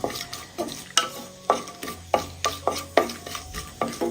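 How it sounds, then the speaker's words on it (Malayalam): Whole spices frying over a medium flame as a utensil stirs them in a pan, sharp regular scraping strokes roughly twice a second over a quiet sizzle, close and distinct. "ഒരു നല്ലൊരു മണം വരുന്നവരെ ഒന്ന് നമുക്ക് ഇളക്കി കൊടുക്കാം"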